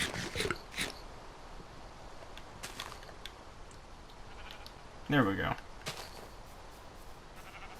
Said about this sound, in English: So 2 green sheep and 2 black sheep.